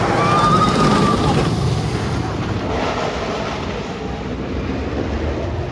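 Steady rushing wind and ride roar on Toro, a wooden roller coaster at Six Flags Great Adventure, continuous and loud across the whole clip with no talk.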